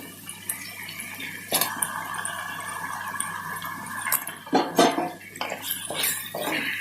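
About a kilogram of chicken pieces drops into a cooking pot with salt for a simple chicken fry, giving wet thuds, clinks of metal and scraping, several sharp close impacts over a low background hum.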